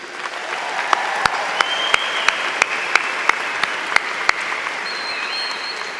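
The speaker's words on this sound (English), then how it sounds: "let's give another round of applause for these graduates." A large crowd applauds graduates at the Poudre High School 2023 graduation ceremony, sustained dense clapping in a big hall with a few sharp individual claps standing out near the mic, no voices on top.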